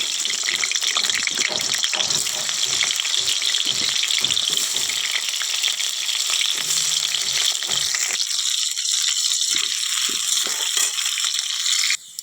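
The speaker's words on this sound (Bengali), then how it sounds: "প্রথমেই দেখো আলুগুলো ভেজে নেবো" Potatoes frying in hot oil in a home kitchen, a steady dense sizzle running continuously and close, with occasional rattles and clinks of a utensil, then easing slightly near the end; no talking.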